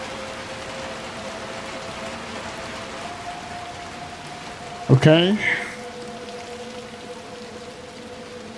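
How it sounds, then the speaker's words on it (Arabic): Rain falls steadily in the horror game Little Nightmares 2, a soft continuous hiss under faint tones, broken midway by a short sharp burst of game sound, with a single spoken word heard. "ما شاء الله المطر جميل مرة."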